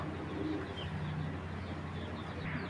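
A female Giribaz tournament pigeon coos softly in low, repeated murmurs over a steady background hum, faint and continuous with no talking.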